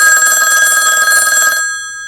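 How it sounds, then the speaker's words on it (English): An old-style telephone bell rings loudly and continuously in the middle of the night, a single sustained burst that cuts off abruptly and leaves a faint ringing tail. "A phone call came in the middle of the night."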